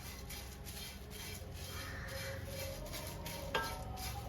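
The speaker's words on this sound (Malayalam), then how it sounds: "അവലിട്ട് നന്നായിട്ട് ഇളക്കി കൊടുക്കണം അവൽ നല്ല ക്രിസ്പ് ആയിട്ട് വരണം" Flattened rice (aval) roasting and being stirred in a pan for a Kerala-style milkshake, giving a low, steady rustle with faint scraping and one sharp clink near the end.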